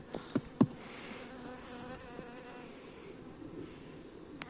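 Honeybees drone continuously up close at a hive, a thick swarm-like buzz, punctuated early by a few quick knocks and clicks.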